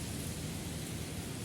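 Heavy rain pours down in a dense, steady hiss with a low rumble beneath, constant and close throughout the short stretch with no voices.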